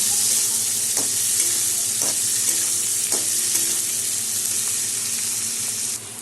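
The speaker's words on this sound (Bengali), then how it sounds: "এখন আমি এই পেঁয়াজটা ভেজে নিব অল্প" Onions frying in a pan, a loud, dense sizzle that holds steady throughout, with a few faint clicks and knocks underneath.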